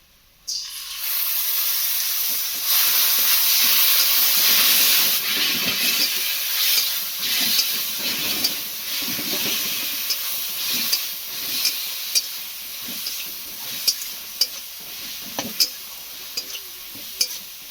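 Grated tomato hits hot spiced oil in a pan for an egg dish and sizzles loudly, then a steady fry hisses on while a spoon scrapes and clinks against the pan in irregular taps.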